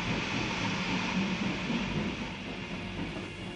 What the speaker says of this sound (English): The troop trains rumbled across Europe, bearing division after division from east to west.